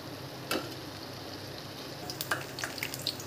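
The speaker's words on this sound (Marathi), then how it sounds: "थोडं लालसर झालं की पलटून दोन्ही साईडनी छान तळून घेऊ आपण" Jalebi frying in hot oil, a soft steady sizzle with faint bubbling and a few small crackles and pops, quiet and close.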